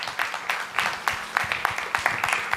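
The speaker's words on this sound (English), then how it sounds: "loud 3 rounds of claps to our panelists" Audience applause for panelists at a medical college event, a loose round of hand claps from a modest crowd, fairly close and sustained throughout with uneven sharp peaks, no speech over it.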